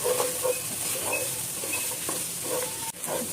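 Carrots and yardlong beans stir-fry in a pan for chow mein, a steady sizzle and hiss with intermittent stirring scrapes and clinks, close up, no talking.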